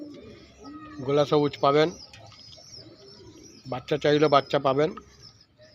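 Pigeons coo softly at a pigeon seller's stall, underneath someone talking in two bursts separated by a quiet pause.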